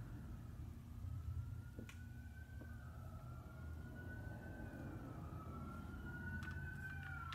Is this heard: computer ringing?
no